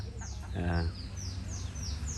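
A chicken, a native Bisaya chicken on a rural farm, clucks briefly in a short burst, with smaller birds chirping in the background and a low steady outdoor hum.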